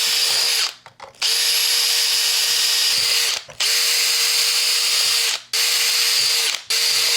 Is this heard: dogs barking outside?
no